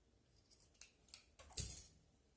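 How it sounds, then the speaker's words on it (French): Scissors snip through a sewn fabric cord during a sewing session, a few quiet, close crisp cuts building to one louder final snip. "je vais le couper en deux au milieu"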